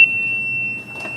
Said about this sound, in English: Sorry about the loud beeping in the background.